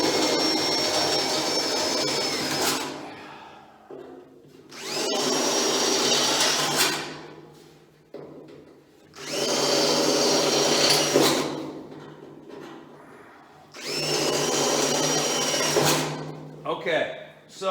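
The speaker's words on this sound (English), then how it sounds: "now I'm going to use this larger drill bit" A power drill whirs in four sustained bursts of a few seconds each, separated by short pauses, loud and close, using a 13/64 bit to install semaphore pockets on a VW Beetle.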